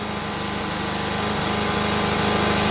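A Briggs and Stratton P2200 portable generator hums steadily in power saver mode, a continuous close engine drone with no change in pitch or level.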